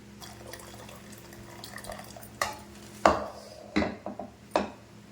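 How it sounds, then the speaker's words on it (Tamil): Water splashes and pours in a few short bursts as it is drained from a pot of boiled lentils, with clinks of the pot against a surface, close by and without speech. "இப்போ தண்ணியை வடிச்சிட்டு நம்ம கடைஞ்சிக்கலாம்."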